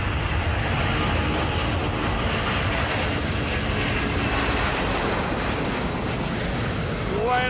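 An airplane taking off from an airport with its landing gear retracting: a loud, steady, broadband engine roar that fills the whole stretch close by, with no pauses and no voices.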